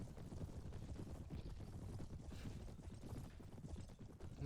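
Horse hooves gallop in the Perisno mod game, a quiet, continuous drumming of clip-clops with windy rushing noise around it, steady and somewhat muffled throughout.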